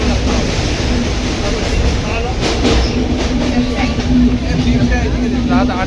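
A passenger train runs through a tunnel on the route to Araku Valley, giving a loud, steady, enclosed rumble with rattling carriages and a sustained tonal drone throughout.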